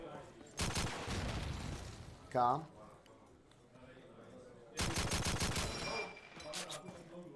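Gunfire in a competitive shooter match, including pistol shots, sounds as two loud bursts of rapid shots with a brief squelchy effect between them, under continuous excited commentary.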